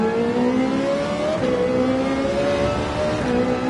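Race cars in Gran Turismo 7 at Sardegna, including a McLaren: a steady, loud engine drone that holds a sustained revving pitch, rising slightly and dipping as gears shift, with no talking.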